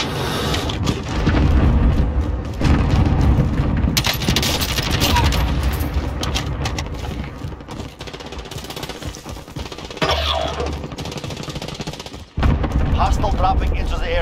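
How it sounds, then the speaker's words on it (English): Gunfire in a Call of Duty Warzone trios match: loud bursts of automatic fire and heavy booms in rapid clusters, with explosive impacts and game voices over the din. "we're getting shot from in front of us"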